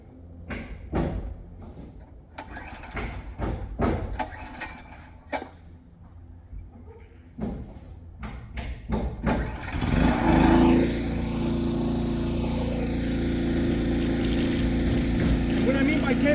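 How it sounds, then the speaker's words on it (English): A well pump powered by temporary power starts up and draws water through a drop pipe and 100 feet of hose, settling into a loud steady hum after a stretch of clattering handling noises. "You'll probably hear the humming of the pump."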